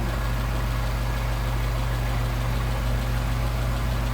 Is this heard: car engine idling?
yes